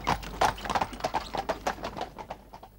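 Horse hooves clip-clop in a steady, close rhythm as a horse draws a four-passenger landau carriage on the Isle of Man, the regular beats loud and clear with no talk over them.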